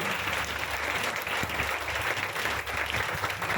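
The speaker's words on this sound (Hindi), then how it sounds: "एक जोरदार ताली होना चाहिए उनके लिए" Audience applause for a revered guest speaker at a Hindi-language talk on health products, a dense, steady wash of many hands clapping that fills the whole stretch at even loudness, with no voices over it.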